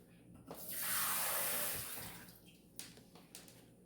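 A kitchen tap runs into a container while water is measured to feed a sourdough starter; the stream rises, holds loud for about a second, then stops, followed by small clinks.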